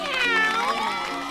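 A cat character on a children's educational programme gives one loud, drawn-out meow with a wavering pitch, close and clear.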